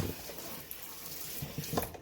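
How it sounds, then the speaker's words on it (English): Water runs steadily from a tap to rinse a part from an X-Maxx RC car during cleaning. It is a soft, continuous splashing hiss with a few faint knocks near the end and no voices. "we'll just make sure that it's completely rinsed off."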